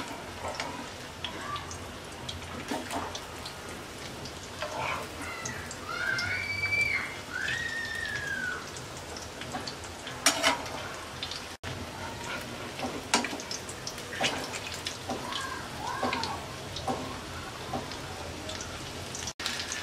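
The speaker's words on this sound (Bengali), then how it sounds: "এক পাশ ভাজা হয়ে গেছে, উল্টিয়ে নিচ্ছি" Potato and minced meat kebab patties fry in a pan, turned halfway, making a soft, low, continuous crackling sizzle with occasional sharp clicks and taps, fairly quiet, with faint background voices now and then.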